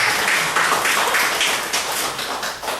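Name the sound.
congregation applause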